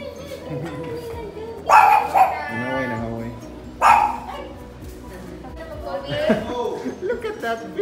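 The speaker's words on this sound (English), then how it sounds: "We're on our way now to Koda to pick up our two doggies." Two dogs bark and yip in short bursts, close and in a car, while people talk over them.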